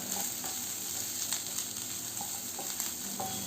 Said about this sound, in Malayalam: ഇതെല്ലാം കൂടി ഒന്ന് വഴറ്റി കൊടുക്കാം